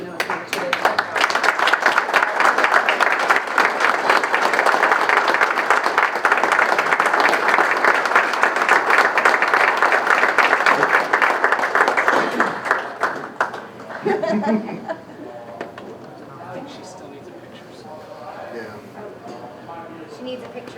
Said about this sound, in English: please stand and give her a round of applause